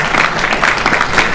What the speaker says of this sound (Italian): credo che un applauso anche al Monsignor Forte vada rivolto